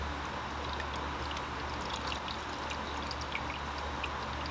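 Engine oil drains from the pan of a BMW E46 with the M54 engine into a drain pan, a steady, continuous pouring trickle heard up close with no talk over it.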